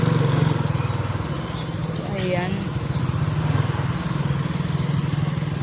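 A motorcycle engine runs nearby in a steady, throbbing idle under close conversational talk, a low pulsing rumble that continues throughout.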